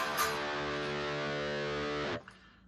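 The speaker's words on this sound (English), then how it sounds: "So we're just down picking and then up picking" A distorted electric guitar chord is played with alternating down and up picking, a dense steady wall of sound held for about two seconds before stopping sharply into a quiet tail.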